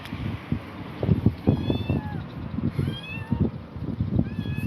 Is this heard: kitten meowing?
yes